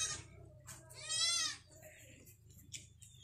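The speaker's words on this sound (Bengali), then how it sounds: "বাহ, এখানে আবার ছাগলগুলো দেখো, তাদের আবার গায়ে ছিট ছিট রয়েছে।" Goats with spotted coats on a village farm in rural Bengal give one loud, drawn-out bleat mid-clip, with a shorter, fainter bleat before it and a low background rumble.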